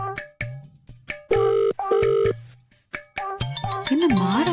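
A phone rings in a Tamil TV serial scene: repeated electronic ringtone bursts with pauses between them, ending in a warbling tone, loud and near with no talk over it.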